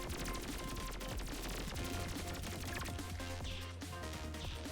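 Rapid bursts of gunfire ring out continuously in a roguelike game about evolving a virus, dense and loud over a droning musical backdrop.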